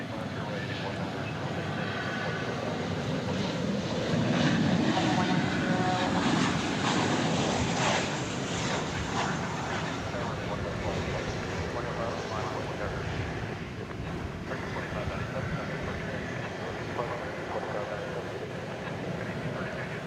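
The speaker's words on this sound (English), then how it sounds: "American Flight 1681 coming in from El Paso in Texas next." An American Airlines Boeing 737-800 inbound from El Paso lands at DFW Airport at night: a steady, broad jet roar swells around the middle and then holds, with voices talking over it.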